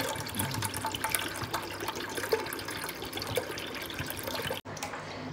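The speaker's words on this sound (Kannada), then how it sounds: "ಇದು ನೀರನ್ನು ಹಾಕ್ತೀನಿ ಇದಕ್ಕೆ" Water pours in a steady, splashing stream into a sharbat drink for several seconds, close and fairly loud, stopping briefly near the end.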